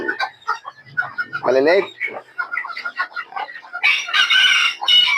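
Backyard chickens with their young chicks clucking and cheeping in short bursts beside a hen, close by, mixed with a voice talking throughout.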